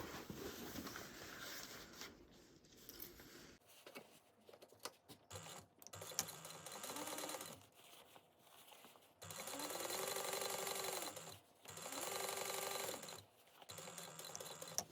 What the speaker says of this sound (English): I'm going to sew across this at a 1/8 inch seam allowance